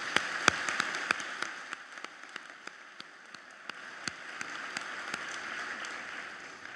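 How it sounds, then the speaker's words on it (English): Convocation audience applauding faculty in a large hall, faint and distant steady clapping with sharper individual claps standing out over a soft wash. "Let's give them a round of applause."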